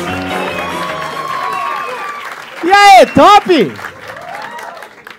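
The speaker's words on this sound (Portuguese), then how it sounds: "Salva de palmas" Applause from a comedy show audience, continuous and fairly loud, with loud voices shouting and cheering over it partway through.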